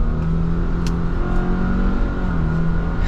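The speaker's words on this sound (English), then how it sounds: "setting off now in the Subaru Crosstrek" A 2024 Subaru Crosstrek Limited with a CVT pulls away from a start, its engine rising into a smooth, steady drone heard from inside the cabin, moderately loud and without speech.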